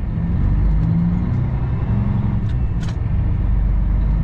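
Kenworth W900 truck pulling away, a steady heavy low diesel engine drone heard from nearby with a couple of short hissing bursts, no talking.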